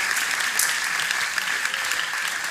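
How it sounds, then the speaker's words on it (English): Dense audience applause at a temple gathering at Bhaktivedanta Manor, loud and close, a steady wash of many hands clapping that keeps an even level throughout. "can we have a round of applause for them?"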